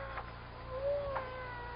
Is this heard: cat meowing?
yes